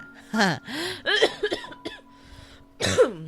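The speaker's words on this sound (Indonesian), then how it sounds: "Masih dengan batuk-batuknya ya" A person coughs in several short bursts, with throat-clearing and sharp breaths between, close to the microphone.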